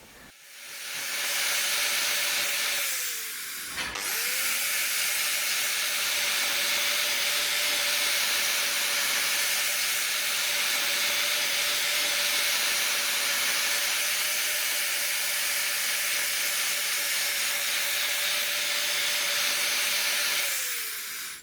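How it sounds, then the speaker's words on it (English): A grinder trims a cow's hoof with a loud, continuous whine and hiss that runs steadily almost throughout, broken by one brief dip early on; there is no talk. "We're going to drop the height with the grinder."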